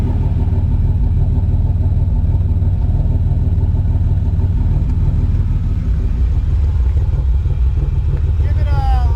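A Pontiac Grand Prix with a 2.8-liter multi-point fuel-injected V6 runs close by at a warm idle, a steady loud rumble with a slight lift in revs near the end.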